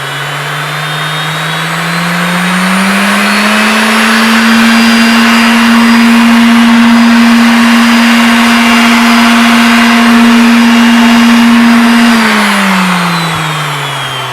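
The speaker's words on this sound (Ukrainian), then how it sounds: "Звучить досить потужно." An InterTool WT-0542 random orbital sander on its second speed whirs with a loud, steady motorized hum that rises in pitch, holds for several seconds, then winds down slightly.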